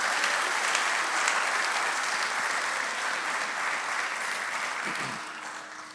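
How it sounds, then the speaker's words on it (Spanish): A church congregation gives a sustained, loud round of applause during a sermon, dense steady clapping that fills the space and tapers slightly near the end. "big round of applause to the Lord."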